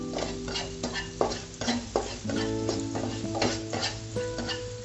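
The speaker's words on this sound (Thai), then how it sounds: "แล้วเราก็ใส่กุ้งนะคะ ใส่กุ้งลงไปเลยนะคะ" Shrimp stir-fry in a hot pan for a Thai sweet-and-sour dish, a steady sizzle broken by repeated scraping strokes of a spatula against the pan, close and fairly loud, with no talking.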